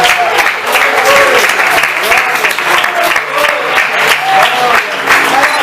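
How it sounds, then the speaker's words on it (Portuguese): A church congregation at a youth gathering applauds the Lord, loud sustained clapping from many hands filling the hall, with voices calling out over the dense steady applause. "aplaudir ao Senhor, porque Jesus merece toda a honra e toda a glória"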